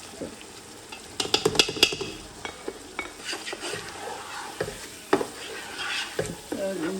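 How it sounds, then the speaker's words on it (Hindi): Masala with Kashmiri red chili, red chili powder and garam masala fried in a pan for chicken changezi, busy spoon scraping and clanks against the pan over steady sizzling, close up with no talk. "इसको मैं मज़ीद भून रही हूँ, इसका ऑयल भी ज़रा बाहर आ जाए"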